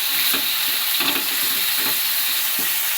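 Jeera aloo, potatoes with cumin seeds, stirred in a hot pan. A continuous close sizzle with several rhythmic scraping strokes, and no talking.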